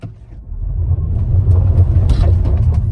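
A 2020 Toyota RAV4 Hybrid pulls away from a dead stop with a low, steady engine and road rumble that swells over a few seconds, with no talk.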